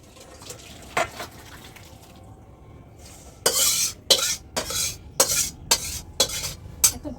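A pot of Bengali curry with fritters comes off a kitchen stove. Soft scraping gives way to a run of sharp metallic clanks and scrapes that arrive in quick irregular bursts, close and fairly loud.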